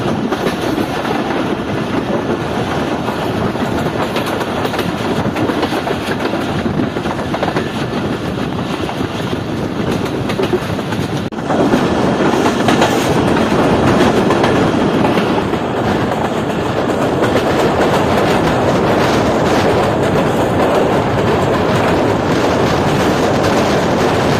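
The Karakoram Express rumbles along the rails with a loud, continuous roar and steady clickety-clack from inside the moving train, joined by wind buffeting throughout.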